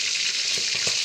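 Fish frying in hot oil, a bright continuous sizzle close by with a few soft spatters or stirs near the end, no talking.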